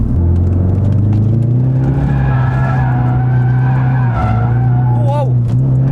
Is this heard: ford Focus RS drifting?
yes